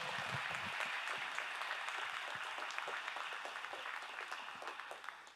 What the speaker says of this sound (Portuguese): Vamos caprichar agora nessas palmas